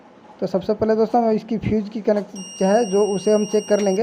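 A multimeter set to continuity mode beeps with a steady electronic tone while probing the fuse connection of a Stranger SM6 audio mixer on the repair bench, the beep running under continuous talk.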